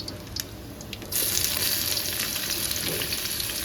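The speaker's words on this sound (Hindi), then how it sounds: "फिर इसमें मैंने ये प्याज है ये मैं डाल रही हूँ।" Onions dropped into hot oil in a pan for a biryani with cardamom, quiet at first, then a loud, steady, close sizzle that jumps up about a second in and holds, with no voices.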